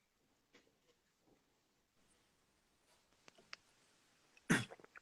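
A person coughs during a scenography and costume workshop class: faint scattered rustles and small clicks, then one sharp, loud, close cough near the end followed by a couple of smaller bursts.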